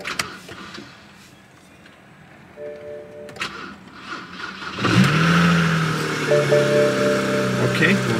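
A manual BMW 335xi is started with the key. Faint clicks and quiet handling come first, then the engine catches around the five-second mark with a loud, close crank and flare that settles into a steady running hum.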